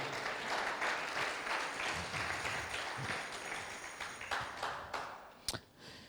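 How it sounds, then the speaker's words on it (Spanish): A church congregation claps and applauds steadily for several seconds, the clapping dense and moderately loud, ending with a sharp tap. "Dale un aplauso a Dios si lo puede alabar."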